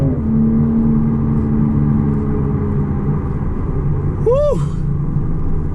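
Toyota GR Supra 2021 3.0L turbo engine droning steadily through a downshift from fourth to third, with a quick sharp rev blip near the end; a voice shouts briefly over it.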